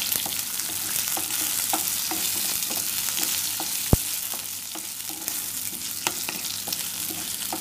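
Shallots and sesame seeds sautéing in a pan for yam kuzhambu, a dense, steady sizzle crackling throughout, broken by light spoon taps and one sharp clack against the pan, close up with no talking.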